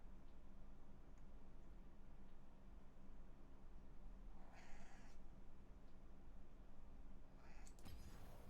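A house cat meows twice, faint and fairly close, over a steady low hum of room noise.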